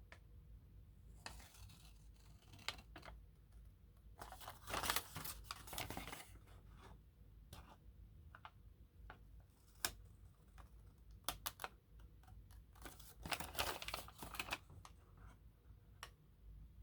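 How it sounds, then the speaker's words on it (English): Scissors snip through folded origami paper in a run of short, sharp, irregular cuts, quiet and close, with small rustles of paper between the clicks. "I'm using scissors for this one."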